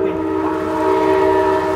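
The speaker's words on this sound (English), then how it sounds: "It sounds like a train is coming. That is the worst sounding thunderstorm I have ever heard." Strong thunderstorm wind roars steadily and loudly, a sustained low rumble like an approaching train, with no voices over it.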